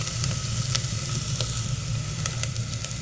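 Butter sizzles steadily in a hot pan as a tasha is fried for a dish of fava beans, a continuous close crackle with small sharp pops scattered throughout.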